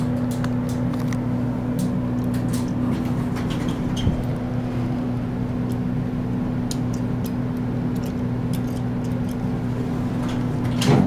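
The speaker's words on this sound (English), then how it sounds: "this is the elevator at the parking garage at 1 Atlantic Center" ThyssenKrupp parking garage elevator at One Atlantic Center in Atlanta, a steady low machinery hum running throughout with faint intermittent clicks and rattles, moderately loud and continuous, with no talking.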